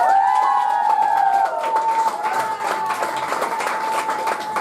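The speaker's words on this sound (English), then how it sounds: "So raise your hands, put them together and clap with all your might" Audience applause and cheering at an evening poetry show, a steady wash of clapping from a crowd with whoops over it, while a sustained tonal sound runs through.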